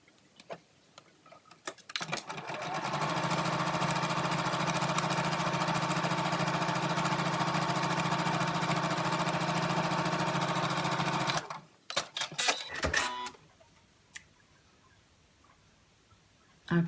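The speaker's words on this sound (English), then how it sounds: "sew a 1/4 inch seam to sew these 2 pieces together" A sewing machine runs a quarter-inch seam joining two fabric pieces for a patchwork coin purse, a close, steady whirring hum lasting about nine seconds, framed by fabric-handling clicks and rustles before and after, with no talk.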